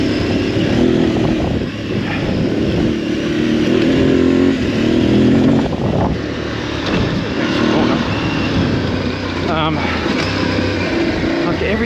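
Aprilia Tuareg 660 adventure motorcycle heard on board while riding, a steady engine drone rising and falling with throttle, mixed with rushing wind noise throughout.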